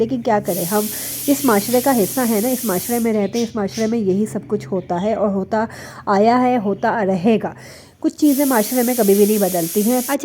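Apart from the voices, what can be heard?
pressure cooker whistle hissing in the background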